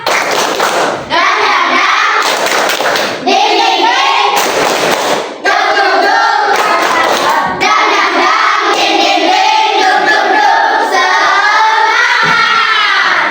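A classroom of children performing a rhythmic spirit clap routine, bursts of clapping and chanting voices alternating in a patterned sequence with short pauses between, loud and close.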